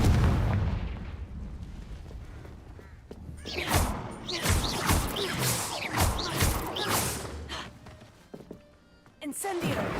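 A Confringo blasting spell explodes repeatedly in Hogwarts Legacy, a series of loud booming blasts and crashes over a rumbling low bed, with a voice speaking around them.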